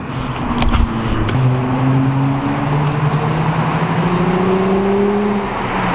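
A Lexus car engine revs and accelerates, its pitch climbing steadily as it passes close by, loud and continuous throughout.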